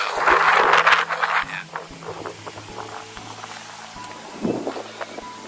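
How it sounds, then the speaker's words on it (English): Wind gusts outdoors on a balcony of a property in Hampton Close, Melksham, a strong rush at first that eases to a lighter, fluttering breeze. "I know you can hear the wind."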